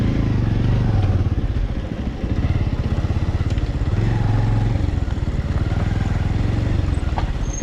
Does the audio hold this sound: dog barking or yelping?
no